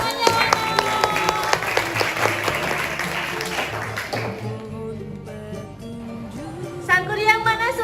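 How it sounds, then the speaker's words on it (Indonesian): Classroom clapping during an Indonesian language lesson, a burst of rhythmic group claps with tapping that fades into music or chanting voices, then a few children's voices rising near the end. "Tepuk tangannya mana?"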